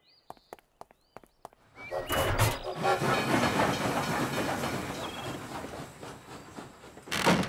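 A cartoon steam train pulls away from a station, opening with a few sharp clanks before a loud, sustained hiss of steam and rolling rail noise take over, ending in another burst of hiss.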